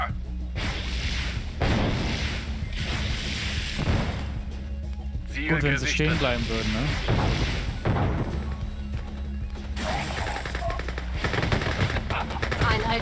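Naval gunfire from warships in the strategy game Command & Conquer Red Alert 2, loud rapid bursts of shots and impacts sounding over game music and effects, with German-speaking unit voices heard throughout.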